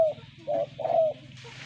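Three soft, low cooing calls from a dove or pigeon, close by, over a steady low hum, with a brief hiss at the end.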